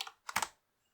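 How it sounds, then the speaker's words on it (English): A few quick clacking keystrokes on a computer keyboard as a command is typed, a short cluster of close, quiet taps followed by silence. "we can access htop simply by typing htop into the command line as follows,"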